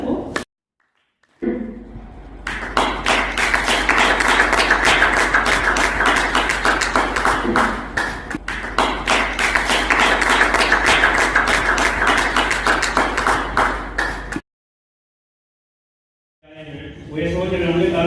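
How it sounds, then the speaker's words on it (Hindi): An audience applauds to welcome a speaker on stage at a shop opening event: a voice comes first, then dense, loud clapping runs steadily for about twelve seconds and stops abruptly, with voices returning afterward. "आपकी जोरदार तालियों के बीच में बुलाना चाहूंगी मिस्टर सतबीर सर को"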